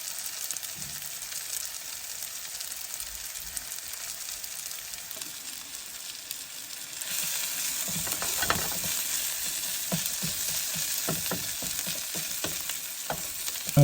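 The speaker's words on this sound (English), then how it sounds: "Now you can hear in the background the onions are beginning to sizzle away." Onions sizzle in a frying pan inside a campervan, a continuous crackling hiss that grows louder halfway through, with occasional stirring clatter.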